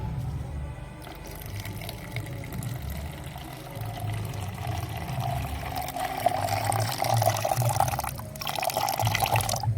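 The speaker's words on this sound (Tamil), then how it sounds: "இப்போ வந்து இதில் நான் தண்ணியை ஆட் பண்ணிக்கிறேன்." Water pours steadily into a bowl, a continuous close splashing and gurgling that rises slightly in pitch toward the end.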